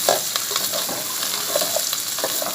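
Masala for chicken bhindi frying and being stirred in a pan, a close, continuous sizzle broken by soft scraping and stirring knocks, with no talk over it.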